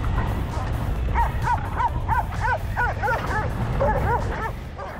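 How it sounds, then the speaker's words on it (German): Several dogs bark and yip persistently while chasing a rider along a rural track in Romania, rapid high-pitched barks over a constant engine drone, fairly close. "Die Hunde bleiben hartnäckig an mir dran"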